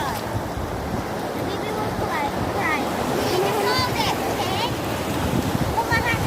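Ocean waves at Bagasbas beach, a steady rush of surf under heavy wind buffeting the microphone, with people talking over it.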